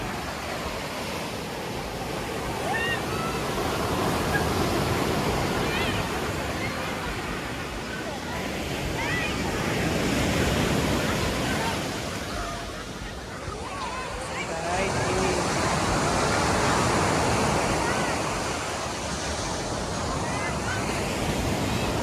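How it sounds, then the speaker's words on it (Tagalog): Ocean surf rolls in continuously at Samal Island, a loud broadband wash that swells and recedes in slow surges, with wind buffeting the microphone and faint voices of people at the shore underneath. "Lakas ng alon."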